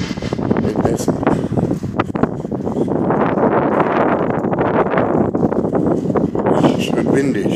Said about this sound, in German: Schön windig, herrlich.